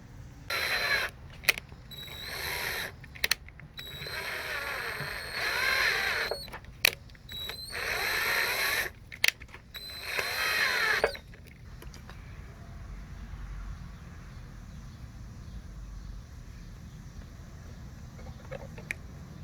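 Hand tap cutting new threads into a drilled-out, stripped hole on a brake caliper, heard as bursts of close metallic creaking and ratcheting in repeated strokes during the first eleven seconds, then quiet.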